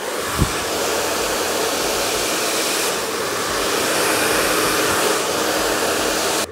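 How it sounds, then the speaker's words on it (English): A hair dryer roars loud and steady at close range while blowing hair down over the shoulder with a brush for a sleek, shiny finish, running continuously before cutting off at the end. "blow dry them down over the shoulder"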